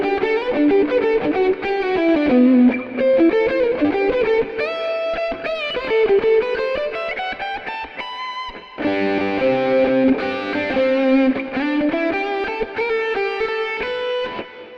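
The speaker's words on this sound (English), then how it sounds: "So this is a tone for Stratocaster." Stratocaster electric guitar played through an amp model with reverb, a smooth, moderately driven lead line of sustained notes and bends, loud and close with no talking.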